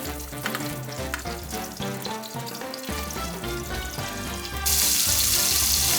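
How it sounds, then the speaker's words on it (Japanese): Green onions and oysters sear in a frying pan for an oyster gratin, giving a steady close sizzle and crackle that swells louder and hissier near the end, with no voices. "まず最初はネギと牡蠣に焼き目をつけていく。"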